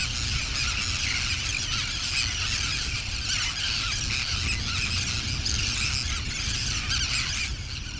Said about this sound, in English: The birds carpet the islands, forming huge colonies of seething bodies and righteous squawking.